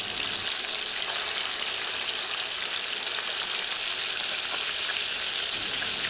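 Fish heads fry undisturbed in hot oil, a loud, even, continuous sizzle with a crackling hiss and no voices.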